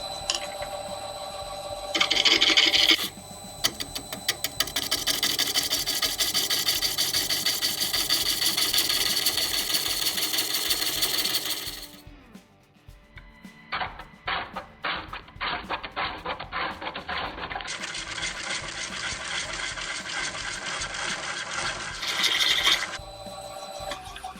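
A gouge cutting a green wood bowl on a lathe: loud, continuous rasping and hissing as the tool bites the spinning wood, breaking off briefly, then resuming in bursts of stuttering cuts and a second steady run.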